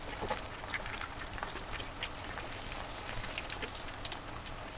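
Cabbage papad being deep-fried in hot oil, giving a steady, dense crackle and bubbling hiss that holds throughout at close range, with no voices.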